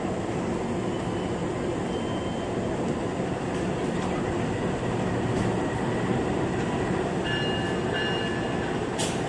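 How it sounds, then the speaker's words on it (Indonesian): A long-distance train reverses slowly through Jakarta Kota station, a steady rolling rumble and rail noise filling the whole stretch at close range, with faint high squeals and clinks near the end. "Tuh, ini keretanya mundur juga nih."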